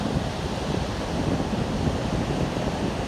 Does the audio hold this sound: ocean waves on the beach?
yes